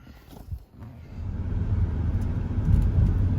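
A BMW E71 X6 being driven, its engine a low, steady rumble that swells as the car gets underway, with road noise building.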